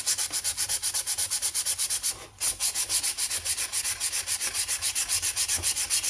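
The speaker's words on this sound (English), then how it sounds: "let's take some of this 120, I think, or 150 grit. Sand on this over here." Hand sanding on old chainsaw plastic with 120 or 150 grit sandpaper makes steady, close, rhythmic rasping strokes. They run continuously with a brief pause near the middle and no talking.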